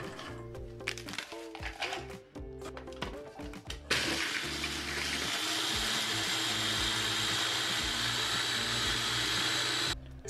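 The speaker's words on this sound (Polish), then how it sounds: "Herbatniki przekładamy do blendera i miksujemy." An electric kitchen blender grinding biscuits: first a few short uneven pulses with rattling crumbs, then a loud steady high whir running continuously for about six seconds before cutting off.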